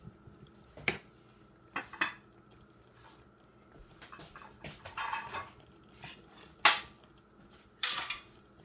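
A spoon stirs oatmeal in a pot on the stovetop, scraping and tapping the metal in scattered bursts, with a handful of sharper clinks between quieter stretches, close and fairly soft.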